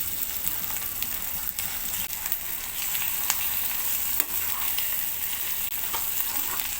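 Ground gongura sizzles and fries in hot oil with crushed garlic, mustard seeds, dried red chillies and curry leaves, a steady dense crackle with scattered sharp pops throughout, close and alone with no talk.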